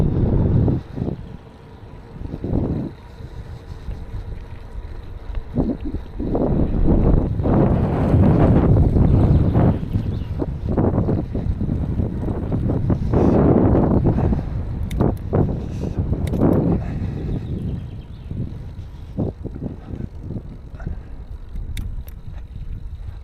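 Strong wind buffets the microphone outdoors on a farm, with heavy rumbling gusts that rise and fall continuously and drown out other sounds.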